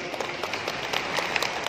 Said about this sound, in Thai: อยากให้พี่น้องได้ปรบมือทางซีเกตสักนิดหนึ่งนะครับ